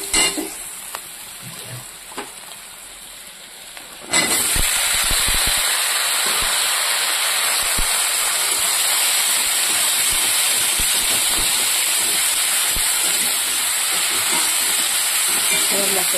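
Chopped vegetables hit lightly fried onions in a hot pan, bursting into a loud, steady hiss that holds for about twelve seconds after a quieter stretch with faint handling noises.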